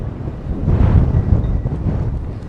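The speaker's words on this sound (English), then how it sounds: "And it is really windy." Strong outdoor wind buffets the microphone with a steady, low, rumbling roar that swells midway and keeps going throughout, with no voices.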